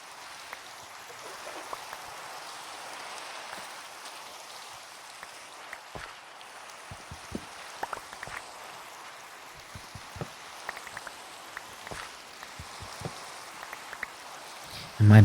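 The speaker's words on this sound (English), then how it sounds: "Now I think the rain is loud enough that" Steady soft rain from Minecraft gameplay, a continuous gentle patter with scattered small drip-like clicks throughout, fairly faint and even, with no talking.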